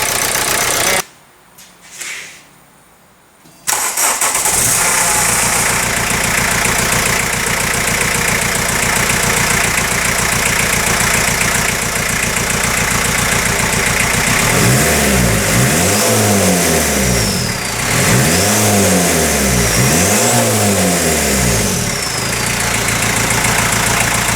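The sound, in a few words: 1980 VW Rabbit Caddy turbo diesel engine running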